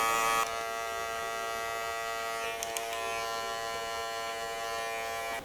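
Electric hair clippers buzz steadily and close up while cutting a low burst taper fade, a continuous motor hum with small shifts in tone as the blade moves through hair, and no talking.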